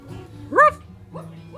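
A person imitates a dog with a single sharp, yelping bark, followed by two softer yips, close and alone over a quiet background.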